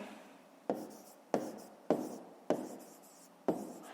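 A pen writes a math answer by hand on paper. Five distinct, evenly spaced strokes sound close and quiet, each a short scratch that fades, with no talking.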